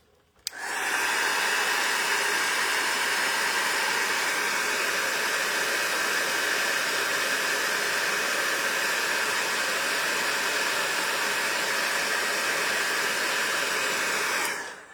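A heat gun warms gold embossing powder on a card, blowing a loud, steady hiss of hot air that starts abruptly, holds constant for about fourteen seconds, then cuts off.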